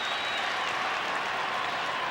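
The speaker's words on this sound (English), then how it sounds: "the South Sydney fans have got something at last to cheer about." A rugby league crowd of South Sydney and Manly fans roars at a 1984 minor preliminary semi-final, a steady, dense wash of distant cheering and clapping throughout, with no commentary.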